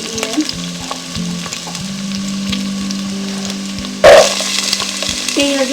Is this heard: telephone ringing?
no